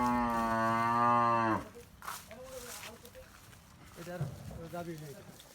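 A loud, drawn-out moo from a dairy cow fills the first second and a half, followed by people talking nearby.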